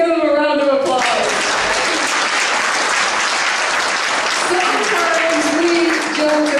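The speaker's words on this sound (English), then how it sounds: "let's give them a round of applause." A church congregation at a family worship service bursts into loud, dense applause that fills the room for several seconds, with a voice speaking over it at the start and again near the end.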